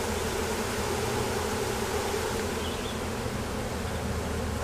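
Honey bees buzz steadily in a bee yard, a dense, continuous hum that stays close and loud throughout with no talking.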